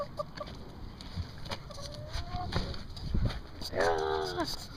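Chickens clucking, including a rooster with big comb, in a farmyard; scattered soft clucks build to a louder, drawn-out squawking call near the end, with faint background noises and scuffling.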